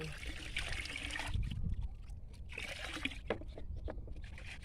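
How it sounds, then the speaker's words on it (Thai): Water trickles and sloshes inside a plastic sprayer bottle as leftover pesticide is rinsed out after spraying pickling mustard greens, a steady close splashing with a few sharper gurgles toward the end. "ใส่แล้วต้องล้างขวดนิดนึง"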